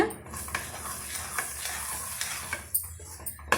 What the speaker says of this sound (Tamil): மாவு சேர்த்து விட்டுக்கலாம் சேர்த்துட்டு நல்லா வந்து கலந்து விட்டுக்கோங்க